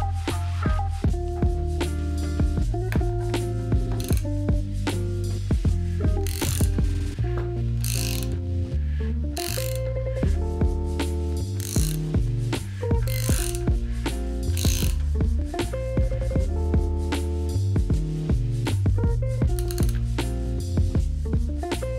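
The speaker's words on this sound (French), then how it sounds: "Ensuite, je desserre le boulon pour appliquer la tension." Ratchet wrench loosening a bolt on the timing tensioner of a forged engine during timing setup, a steady run of quick mechanical clicks and metallic ticks repeating close up for the whole stretch, with no talk.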